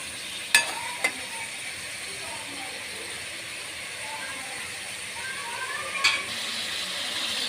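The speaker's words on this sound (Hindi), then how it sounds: "जब आप चिकन को थोड़ा सा ब्राउन करेंगे, गोल्डन ब्राउन करेंगे हम चिकन को।" Chicken browning in a hot karahi over high heat gives a steady, fairly loud sizzling hiss throughout, with a couple of sharp clicks near the start and another near the end.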